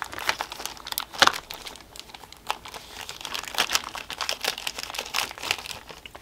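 A small plastic sandwich-size zip bag crinkles and rustles steadily up close as art supplies are packed into it, with a few louder crunches.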